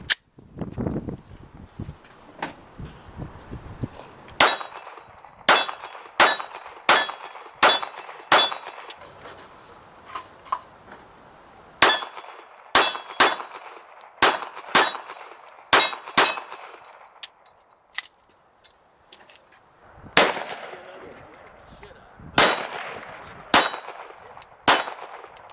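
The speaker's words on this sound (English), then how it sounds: "Let's put a few rounds through it. I'm gonna put a couple magazines through it" Glock 42 pistol shots ring off steel targets outdoors, about twenty sharp cracks each followed by a metallic clang, fired in quick strings with short pauses between groups.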